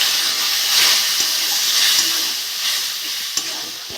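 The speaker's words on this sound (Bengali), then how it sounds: "মশলাটা কষে নেবো, একটু জল দিয়ে দেবো।" Spice paste with chopped tomatoes and salt fries in a pan for a rohu fish head and potato curry, a steady hissing sizzle with occasional soft stirring knocks, close and moderately loud.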